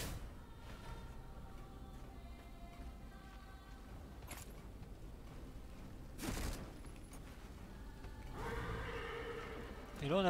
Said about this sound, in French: Et là on appelle le cheval